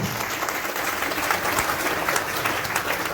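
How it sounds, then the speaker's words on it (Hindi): A crowd at a Guru Purnima gathering of the Nirakari Jagriti Mission in Naraingarh, Ambala, applauds to mark Ved Vyas's birthday. The clapping is dense and steady and carries on without a break for the full three seconds. "सबने तालियों की आवाज से बड़े हर्ष के साथ उनके जन्मदिन की सबके एक दूसरे को मुबारक देंगे।"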